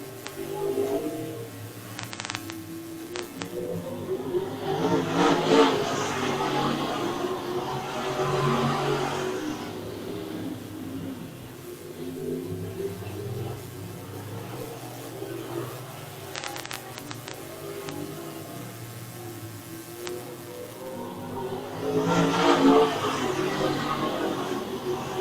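UMP modified race cars roar around a dirt speedway, engines swelling loud as the pack passes, fading, then surging past again on the next lap.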